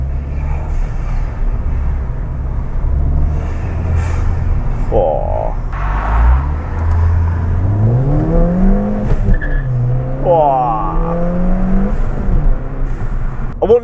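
A Ford Fiesta ST Mk7 with an induction kit drives slowly at low RPM, its engine droning and rising in pitch with intake whoosh, heard from inside the car while a voice briefly speaks.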